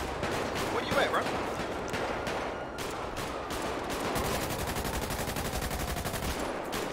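Gunfire in GTA 5 roleplay, with shots cracking off nearby and then a long rapid burst of automatic fire, loud and sustained over the game's background noise.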